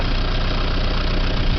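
Diesel tractor engine running at a steady idle, a close, loud, even rumble with a faint knock and no pauses or speech.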